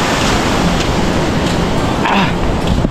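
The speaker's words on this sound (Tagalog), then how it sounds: "Saka yung ating alon, malakas pa rin yung alon." Strong ocean waves crashing and washing in a loud, continuous roar of surf with wind buffeting the microphone and faint voices underneath.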